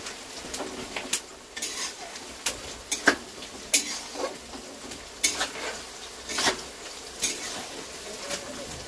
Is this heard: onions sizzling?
yes